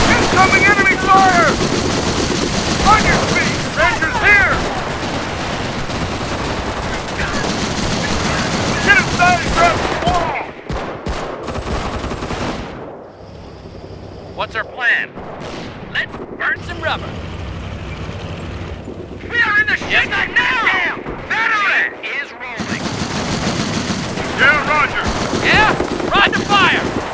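Battle of the Bulge fighting in Company of Heroes, with 7th Armored Division units, brings sustained machine-gun fire and heavy blasts, interrupted by quieter stretches with shouted soldier voice lines.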